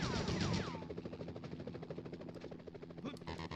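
Rapid automatic gunfire rattles in a Spider-Man video game, with a fast burst of shots in a dense rhythm over helicopter-like whirring and game noise. A voice is briefly heard behind it.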